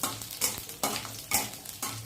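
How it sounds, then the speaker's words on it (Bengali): Garlic frying in a pan with mustard makes a soft sizzle under about five close, rhythmic scraping stirs of a spatula, with no voices. "রসুনটা দিয়ে দিলাম। এটা ভাজা ভাজা হলে"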